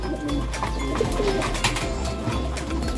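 Pigeons coo softly in a loft under construction, low burbling calls repeating irregularly over a dull background rumble, close by with no talking.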